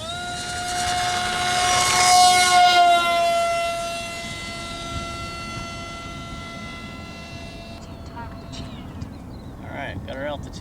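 Electric motor and propeller of a Hobbyzone AeroScout S2 1.1 m RC plane whine steadily in flight, swelling louder as it passes close and then fading to a thinner distant drone.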